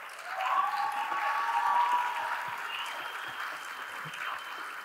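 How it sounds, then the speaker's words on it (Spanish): Audience applause at a talk or panel as a speaker is welcomed; a full burst of clapping swells in the first two seconds, then gradually thins and fades while still continuing. "le demos la palabra y un aplauso grande a Gloria Careaga"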